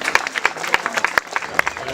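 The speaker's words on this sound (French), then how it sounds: "on les applaudit bien fort" An audience at a campsite entertainment show claps in a short burst of scattered, fairly close applause mixed with crowd noise and voices.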